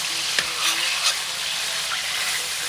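Shrimp sizzle steadily in a pan while being stirred, the close frying hiss broken by a few light scrapes and taps of the utensil.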